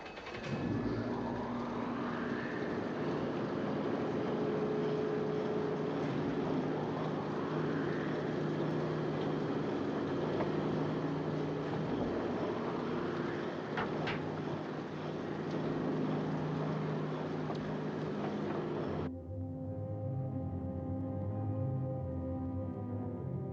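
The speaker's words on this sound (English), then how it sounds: "Start engines." A submarine's engines start and run in the film 20,000 Leagues Under the Sea, giving a loud, steady mechanical drone with recurring rising whines that cuts off abruptly to a lower hum near the end.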